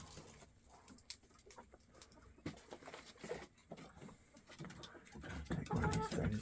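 Backyard chickens settle on a roost at dusk, giving soft scattered clucks and low murmuring calls, faint at first and growing busier and louder toward the end.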